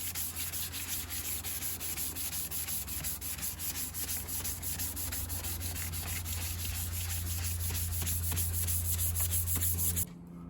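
Renault Clio headlight hand-sanded with 800 grit sandpaper in vertical strokes, a steady rhythmic rasping scrub close up that continues for about ten seconds, then stops.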